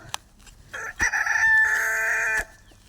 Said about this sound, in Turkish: Evet tavuklar var burada